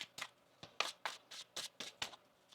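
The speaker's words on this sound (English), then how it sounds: "One more shuffle." A deck of tarot cards being shuffled by hand, about nine quick crisp riffling bursts in an uneven rhythm, close and fairly loud with no talking.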